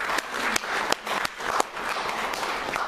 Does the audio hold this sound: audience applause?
yes